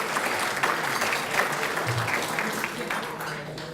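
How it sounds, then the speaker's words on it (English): Applause fills the room at a volunteer celebration event, a sustained crowd of many hands clapping at a steady, fairly loud level that continues without a break. "just another round of applause for Maureen Russell Hodson for organizing this and working with everyone"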